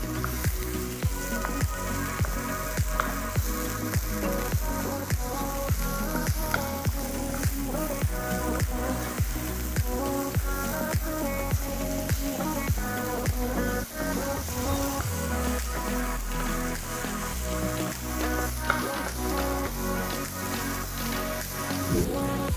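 Ground beef sizzling and frying in a pan, a steady crackling hiss with dense popping throughout, close and continuous with no talk, being cooked until well done.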